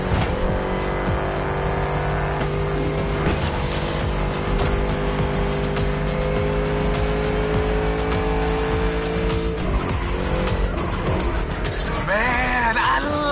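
A muscle car races in the video game The Crew Motorfest, its engine roaring loudly and continuously with rising revs and tire squeal, alongside steady tonal game sound throughout.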